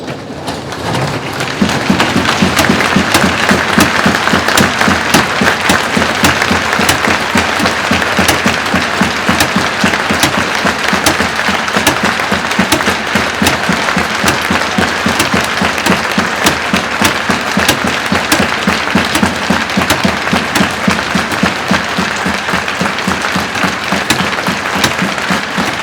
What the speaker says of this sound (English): we'd like to invite you to stand if you're able and join us in a minute's applause